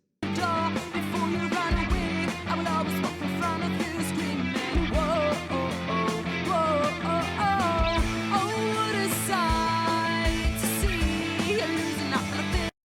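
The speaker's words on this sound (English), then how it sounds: "So you can hear it is a pretty straightforward rock tune." A steady, full-band neo-folk/rock verse groove with driving guitars, bass and drums, played continuously with no singing.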